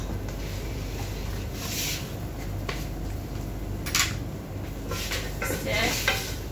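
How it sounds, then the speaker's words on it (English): Salted food sizzles steadily in a pan while a utensil stirs it, with intermittent scrapes and light clinks over a constant frying hiss. "Stir for another 2 minutes."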